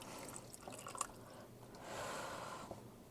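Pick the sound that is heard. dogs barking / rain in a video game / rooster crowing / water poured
water poured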